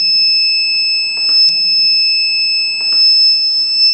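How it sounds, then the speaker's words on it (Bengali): A homemade rain alarm, set off by sprayed water, gives a steady piercing electronic tone with faint splashes and handling noises underneath, close and loud. "অ্যালার্মটা বাজতে শুরু করেছে।"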